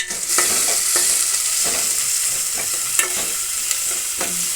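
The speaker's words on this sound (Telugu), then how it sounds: "వేసిన తర్వాత ఈ విధంగా కలుపుకోవాలి ఫ్రెండ్స్ గరిటెతో" A ladle stirs cumin seeds and garlic through hot oil in a pan while they fry for a Telugu okra pulusu, scraping steadily under a constant loud sizzle, with sharp scrapes and clicks of the ladle against the pan.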